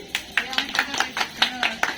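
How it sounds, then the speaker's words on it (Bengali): A group claps at a picnic prize-giving for a Republic Day gathering, with about nine sharp, fairly even bursts of applause across two seconds, nearby and moderately loud. "হাততালি"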